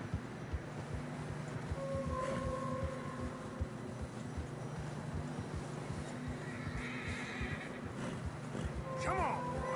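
Horses neighing and plodding through fresh snow in the video game Red Dead Redemption 2, with whinnies and hoof sounds over a constant busy game background, moderately loud.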